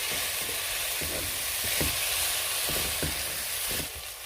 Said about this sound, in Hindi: तो अच्छे से मिक्स करके आप 2 से 3 मिनट के लिए हाई फ्लेम पे कुक करें